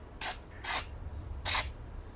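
Aerosol can spraying protective coating onto a metal front plate bracket for a BMW i8: three short, close hissing bursts, the last two a little longer, separated by quiet pauses.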